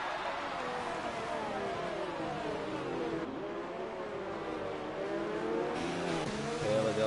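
A race car engine accelerating at Spa, one steady rising whine that climbs through the gears with a couple of shifts, heard from the car itself under quiet background noise.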